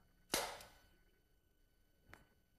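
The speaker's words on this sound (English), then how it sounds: "I'm going to fire the gun now." A gun fired at a golf ball during a physics lecture demonstration: one sharp, loud crack followed by a fading ring, then a fainter, brief knock about two seconds later.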